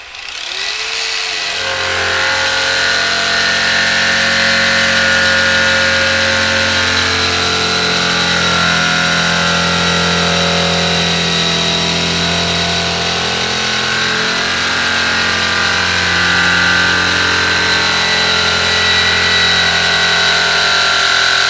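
An Eastwood Contour SCT sanding tool runs on a painted-over rusty car fender, a loud, steady motorized whine with a brief spin-up at the start and a continuous grinding drone that holds without pause.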